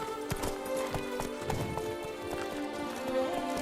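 A horse gallops in The Witcher 3 Blood and Wine, with quick rhythmic hoofbeats up close, a game soundscape in the background and brief talk alongside.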